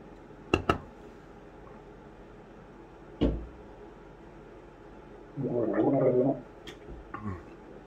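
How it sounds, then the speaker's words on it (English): A person gargles milk for about a second, a close bubbling burble that follows a few scattered knocks and thumps in an otherwise quiet room. "Yes, I was gargling milk."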